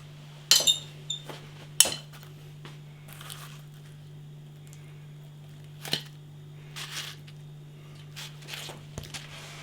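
Someone lifts the lid off a foil tray holding a Carolina Reaper steak pie, giving light metallic crinkles and clinks in a few scattered bursts over a quiet room with a steady low hum.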